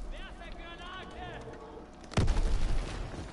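A single sharp sniper shot from a WWII video game bursts in suddenly and loudly after a stretch of quieter game ambience, followed by rumbling noise, with a person speaking before it.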